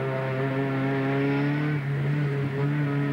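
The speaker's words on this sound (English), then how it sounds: "Sierra Cosworth makes that wispy noise from the 16-valve engine with the turbocharger tagged onto it." A Ford Sierra Cosworth race car with a 16-valve turbocharged engine drones steadily at high revs, holding a smooth, sustained note that shifts slightly in pitch as it races, with no voices.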